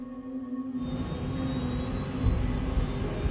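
Steady roar of an airliner's jet engines during the takeoff roll, a loud continuous rumble with a whining tone, heard from inside the aircraft.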